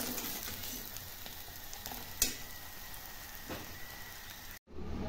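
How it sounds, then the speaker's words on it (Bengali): Aloo paratha fries in a hot pan with a steady, even sizzle throughout, one brief sharp crackle midway, before the sound cuts out abruptly near the end. "তো এখন আমি ভেজে নিচ্ছি।"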